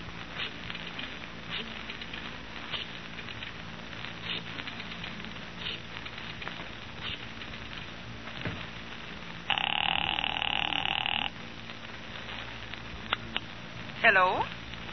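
A telephone rings during an outgoing call in an old-time radio detective drama, a steady electric bell burst standing out clearly over low background noise, with a brief warbling tone near the end.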